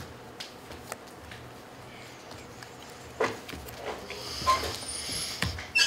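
Deck of cards shuffled during a Magic: The Gathering Pioneer match, soft rapid riffling and patter building in the second half, close and moderately quiet.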